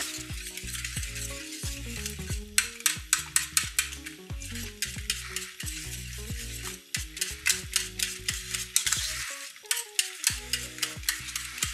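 A whisk scrapes and taps rhythmically against a metal pot of thickening pudding, quick repeated strokes with short pauses, close and clear without any talk.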